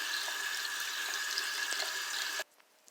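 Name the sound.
rinsing face with water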